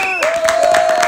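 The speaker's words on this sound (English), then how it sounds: "Fast clap." A team at practice claps fast and in unison, about four quick claps per second, under a sustained held voice or tone.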